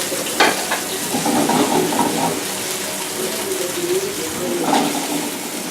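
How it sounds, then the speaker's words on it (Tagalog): Tomatoes frying over low heat in a frying pan, stirred so they break down, giving a steady soft sizzle with scraping stir sounds throughout, close and moderately loud, no talking. "So right now, tomatoes in the frying pan, antayin mo siya madurog ng maigi."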